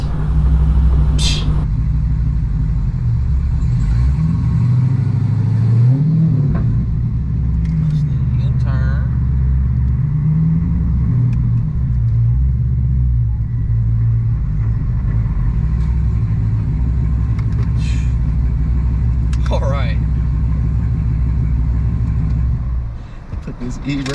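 Dodge Hellcat Charger swapped to a 6-speed manual, its engine rumbling steadily low and close throughout while driving, with voices talking over it and the sound dropping off near the end.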